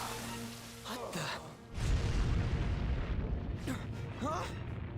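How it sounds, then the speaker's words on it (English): A deep explosion booms in the video game Persona 5 Royal and leaves a long rumbling roar, with short spoken lines from game characters heard before and over it. "An explosion?"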